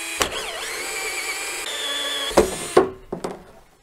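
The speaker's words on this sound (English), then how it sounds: "So let's drill us a hole." A power drill bores a hole in a thick plastic barrel, its motor whining and wavering as it bites, then cutting off into a few sharp knocks and clatters up close.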